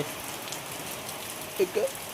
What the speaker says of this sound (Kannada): ಈಗ ಮಳೆ ಹೊಂಟದ